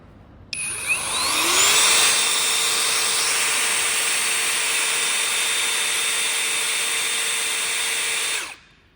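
An electric torque wrench spins up with a rising whine after its start button is pressed, then holds a loud, steady motor tone for about eight seconds before cutting off abruptly, heard close and alone.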